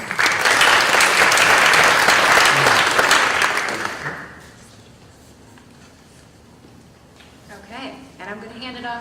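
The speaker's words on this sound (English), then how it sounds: "Again, another round of applause for Ms. Maida." Audience applause at a school board of education monthly meeting: steady, dense clapping for about four seconds that then stops, followed by a quiet room and a voice beginning to speak.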